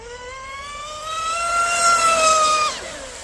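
A Proboat Impulse 32 RC boat with upgraded stage 2 prop races across water, its electric motor whining in a rising pitch that holds steady and grows louder at its peak, then cuts off abruptly.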